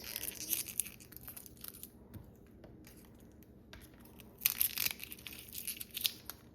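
Garlic cloves smashed with a buckle for peeling while cooking Jamaican rice and peas, heard as a few sharp crunching cracks in two bursts around a quieter middle, close and moderately loud with no talk.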